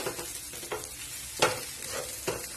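Egg idiyappam with fresh coriander leaves is stirred and tossed in a hot pan, with a steady low sizzle broken by several sharp scraping strokes of the spatula, close and moderately loud, no talking.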